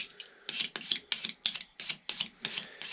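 A metal scraper works over the body of a horn powder horn, giving a series of about nine sharp, rhythmic rasping strokes, close and clear with short pauses between them.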